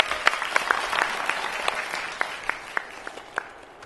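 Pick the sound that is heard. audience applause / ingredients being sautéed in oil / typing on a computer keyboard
audience applause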